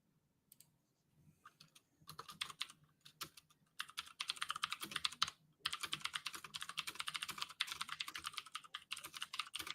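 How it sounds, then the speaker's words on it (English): Fast clacky typing on a mechanical keyboard starts sparse and quiet, then builds into dense, continuous key strikes heard close up. "Sorry, mechanical keyboard."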